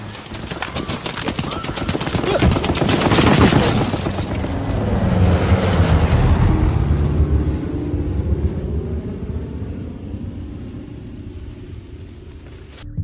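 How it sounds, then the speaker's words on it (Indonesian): Rapid gunfire rattles over deep booms and a roaring rumble during an American air raid on Japanese troops in World War II, building then slowly fading into a dull wash of noise. "mereka pun sempat mendapat serangan udara dari pesawat Amerika"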